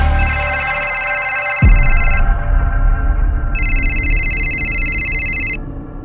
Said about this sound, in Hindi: कुछ दिनों बाद उनका फोन आया